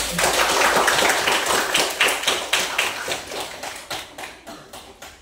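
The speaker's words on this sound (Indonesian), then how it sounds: "Tepuk tangan dulu" A classroom of pupils claps hands together in a quick, steady rhythm, a long run of sharp, close claps that loosens and thins out toward the end.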